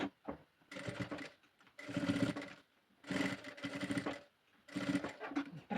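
A sewing machine stitches a flamingo toy in four distinct bursts of rapid mechanical chatter, each lasting about a second, with short quiet gaps between them, close up and alone.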